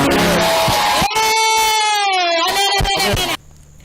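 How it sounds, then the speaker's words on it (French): Church congregation cheering loudly, with a noisy burst of crowd sound at first, then sustained high voiced cries and whoops that stop abruptly. "Applaudissons pour Jésus."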